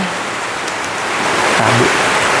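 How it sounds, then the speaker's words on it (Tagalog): Heavy rain on a mountain pours down as a loud, continuous hiss and patter close by, with a brief low rumble near the end. "super duper lakas ng ulan na naman"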